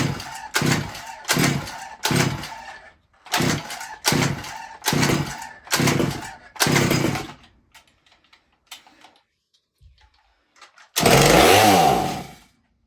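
A small engine is pulled over and over, about seven rhythmic rips in a row. It sputters without catching, a few faint ticks follow, then a short loud burst of revving at the end.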